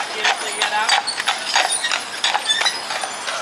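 Horse hooves clip-clop at a steady, brisk rhythm as a carriage passes close by on a street in Savannah, loud and prominent over light background noise.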